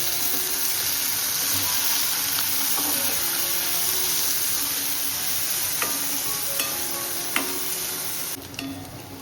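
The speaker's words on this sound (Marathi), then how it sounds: "लगेचच आपल्याला आता कांदा टाकायचा आहे. तो मस्त परतून घेऊ." Chopped onion sautés in hot oil in a pan with a steady close sizzle and occasional light stirring clicks, with no talking.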